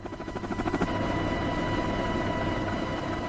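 A CH-53K heavy-lift helicopter thunders nearby, its rotor chop pulsing rapidly at first before merging into a loud, steady roar.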